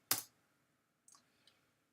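Keys pressed on a Swiss French computer keyboard during Photoshop editing: one sharp, close click, then two much fainter taps about a second apart, with near silence around them.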